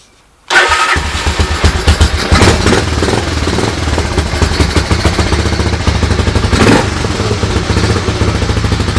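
A 1986 Honda Foreman 350 ATV fitted with a Harley Davidson muffler starts up abruptly and settles into a loud, close, lumpy idle with rapid regular exhaust pulses and occasional throttle blips.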